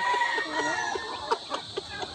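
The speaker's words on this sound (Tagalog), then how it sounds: "So ito na yung White Leghorn nagka-cross sa barred rock natin mga ka-farmers na merong 5 sisiw." White Leghorn crossed with Barred Rock chickens with five chicks make close, repeated short clucks and cheeps that form a busy run of calls, with a few sharper notes near the end.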